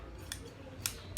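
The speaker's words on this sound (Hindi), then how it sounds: "अभी इस कपड़े को हर एक कपड़े को काट देंगे" Tailor's scissors snip through cloth while a gents' shirt collar is cut out: three short, crisp cuts spaced apart, close and fairly quiet, with no talking.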